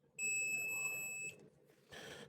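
A multimeter's continuity beeper sounds one steady, sustained high beep for about a second while testing a fuse on a Chinese graphics card, fairly close, with a soft burst of noise after it.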